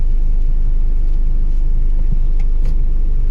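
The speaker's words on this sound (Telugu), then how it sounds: "రివర్స్ గేర్ వేసుకున్నా, క్లచ్ చిన్నగా వదులుతున్నా." A car's engine idles low and steady while reversing slowly with the clutch eased out, a close, constant rumble with only slight variations and no voices.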